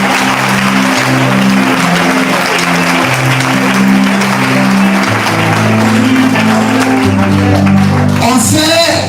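A church congregation claps and cheers steadily, a dense wash of applause filling the space while sustained keyboard or organ chords play underneath.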